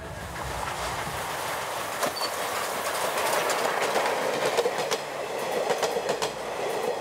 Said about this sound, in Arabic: تحرك القطار أقدم قاطرة بخارية يابانية لا تزال قيد الخدمة والتي صنعت عام 1922